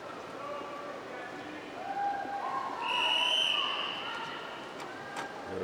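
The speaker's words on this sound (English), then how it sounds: "There's the whistle." A long whistle at an indoor swimming pool calls athletes onto the starting blocks at a Parapan American Games swimming event, a sustained shrill tone rising above steady hall ambience for about a second.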